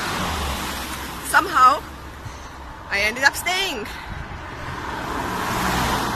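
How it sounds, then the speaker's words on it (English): Cars passing on a quiet road in Ireland, a steady swelling and fading roadway hiss that builds toward the end, while someone talks continuously over it. "Let these cars pass, sorry for the noise."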